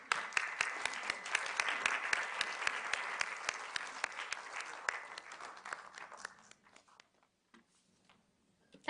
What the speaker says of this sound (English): Please, can we clap?